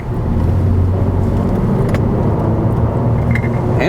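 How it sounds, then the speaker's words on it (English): A 2017 Honda Civic Si driving through a turn, steady engine and road rumble heard from inside the cabin, continuous and fairly loud with no talking. "Let's see how it handles on the turn."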